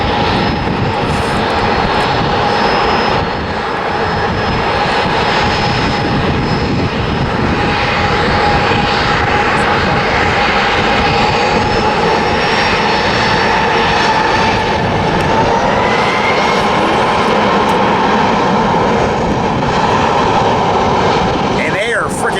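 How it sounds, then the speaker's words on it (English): Alaska Airlines Boeing 737 jet roaring through its takeoff run at a San Diego airfield, a loud continuous engine rumble and whine lasting throughout, with people talking over it. "here comes this Alaska 737, finally getting clearance"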